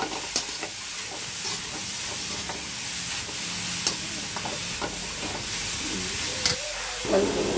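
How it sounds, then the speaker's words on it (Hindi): Carrots roasting in ghee in a kadhai for carrot halwa give a steady soft sizzle and hiss, with occasional stirring scrapes and light clinks throughout. "जब तक ये कैरेट भूंज रही है"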